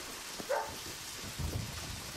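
Steady rain falling in the video game Deadly Premonition, a soft, even hiss throughout with a couple of brief low thumps, no talking over it.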